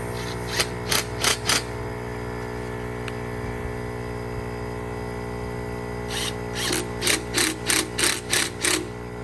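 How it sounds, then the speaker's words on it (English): A train horn air compressor on a 1986 Chevrolet C10 hums steadily as it fills its tank, with bursts of sharp rhythmic clicking or ratcheting near the start and again toward the end, no voices present. "All right, so the compressor is running. It's filling the tank full."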